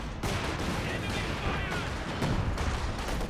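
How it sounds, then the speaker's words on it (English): Gunfire and explosions from the World War II strategy game Company of Heroes 2, including a grenade blast, as a dense, loud, continuous barrage of shots and booms. "That was a grenade,"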